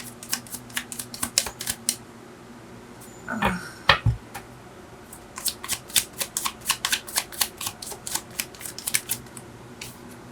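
Tarot cards shuffled by hand produce rapid, crisp riffling flutters in close bursts, with a brief thump and handling noise partway through before the quick papery shuffling resumes.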